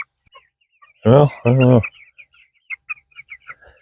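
Two-month-old barnyard mix chickens give faint, scattered clucks and peeps at close range, following a brief stretch of someone talking.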